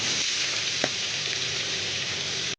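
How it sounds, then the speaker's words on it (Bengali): Prawns frying in hot mustard oil in a wok, a dense, even sizzle close by with a brief clink, cutting off abruptly at the end. "চিংড়ি মাছ ভাজা হচ্ছে।"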